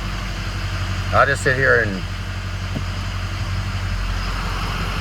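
A Ford Powerstroke truck engine idles in reverse with a steady low rumble throughout, close and constant, while someone talks briefly over it.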